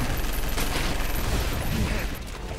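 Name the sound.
airstrike in the video game All Zombies Must Die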